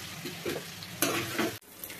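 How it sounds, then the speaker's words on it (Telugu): Pieces of bottle gourd fry in hot oil, a close, crackling sizzle broken by a few scraping stirs of a utensil against the pan. "సొరకాయ ముక్కలు ఈ విధంగా ఫ్రై చేసుకోవాలండి."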